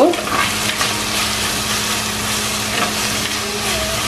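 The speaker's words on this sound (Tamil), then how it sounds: "இப்போ ஒன்றரை நிமிஷமாக வதங்கி கொண்டு இருக்குது அதை மிக்ஸ் பண்ணி விடுங்க" Onions sauté in a pan for Sri Lankan green jackfruit cutlets, giving a loud, dense, even sizzle from start to finish with a brief stirring rustle at the start.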